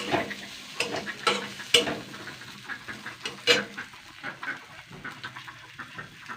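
Dried loitta fish (Bombay duck) and large tomatoes stirred together in a sizzling pan, with repeated scraping and clattering strokes of a spoon over a soft frying hiss, close by.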